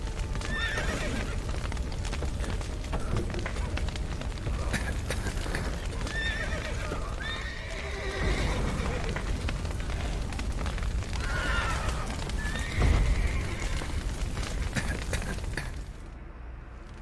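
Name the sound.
horses neighing and hooves in video game The Witcher 3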